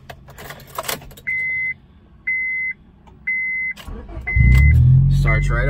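A 2001 Honda Civic LX goes through ignition chimes with keys jangling, then the starter cranks briefly and the engine catches into a steady, close idle.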